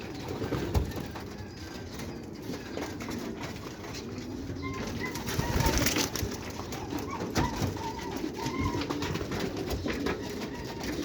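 Pigeons kept tied in an outdoor enclosure coo softly in a steady, low murmur, with scattered bird calls mixed into the background noise throughout.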